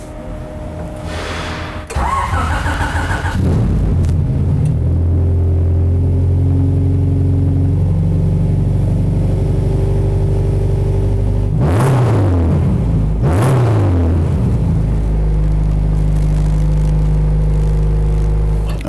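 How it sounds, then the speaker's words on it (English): A tuned Honda engine fitted with a digital dash and Hondata engine management cranks at about two seconds, catches, then runs at a steady loud idle with two brief revs near the end, no speech. "now we're ready to start the engine and go out and drive the vehicle."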